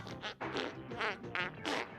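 A toy gives off a string of squelchy, sputtering fart noises, several uneven bursts close together, fairly quiet with no talking.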